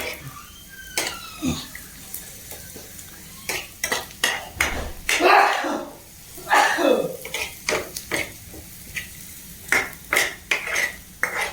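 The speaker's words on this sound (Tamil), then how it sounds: "அது வரையா நல்லா அதோட நல்லா வதக்கணும்" Food being sautéed and stirred in a pan in a home kitchen, with a utensil scraping and clinking repeatedly against the metal and a faint sizzle underneath, close and fairly loud, with no talk.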